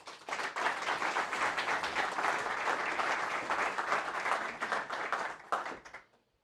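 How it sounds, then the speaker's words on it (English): Sustained, dense audience applause greeting UK Chancellor of the Exchequer Rachel Reeves at a Bloomberg House gathering in Davos, steady and loud for several seconds before fading out abruptly. "please join me in welcoming and giving her a big round of applause to the stage, the UK Chancellor of the Exchequer"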